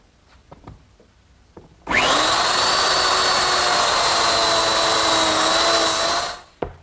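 A biscuit joiner cuts slots in narrow half-inch pine rails, making one loud, steady, high-pitched whine of about four seconds that starts abruptly and winds down, with light handling knocks before and after.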